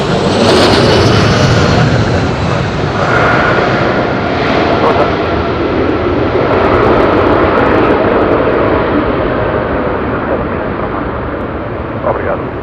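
An airliner touches down at Madeira Airport, its engines roaring loudly and steadily close by with reverse-thrust rumble that eases slightly toward the end, with voices faint underneath.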